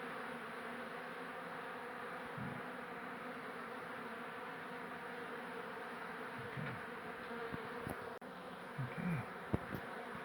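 Dense, steady buzzing of a bee colony inside a bathroom wall hive during a relocation, continuous and close, with a few brief knocks and a short spoken word near the end.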